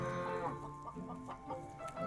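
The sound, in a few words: chicken clucking in a video game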